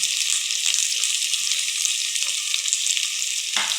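Thinly sliced onions fry in hot oil for mushroom biryani, giving a steady, close, bright sizzle that hisses on without a break until a brief stir near the end.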